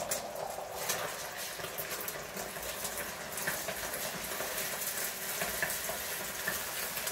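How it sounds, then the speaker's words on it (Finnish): Egg cooks into a bubbling vegetable soup with tomato and zucchini in a pot, giving a steady, soft sizzling and bubbling hiss that runs evenly throughout without pauses. "Tässä tulee nyt tää kananmunaa, vähän paistetaan tänne joukkoon"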